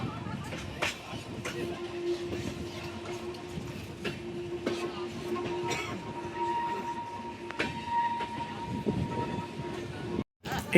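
A train slows on the hilly Visakhapatnam to Araku line, passing track maintenance works. A moderate, steady rolling rumble carries sustained metallic squeal tones and occasional sharp clanks, with a person talking over it.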